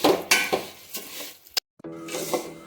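Rice and dal frying and being stirred in a pan for khichuri, with a scraping, rustling stir and soft clinks of the spoon against the pot, broken by a brief pause, then stirring again.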